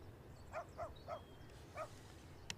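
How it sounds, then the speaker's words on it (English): Distant dogs give four evenly spaced, bright barks, faint against a quiet outdoor background, followed by a brief click. "They sound happy barks anyway."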